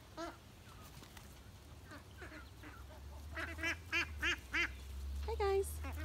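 A flock of ducks quacks nearby in short bursts of harsh repeated calls that grow louder toward the end, heard over a low steady background hum.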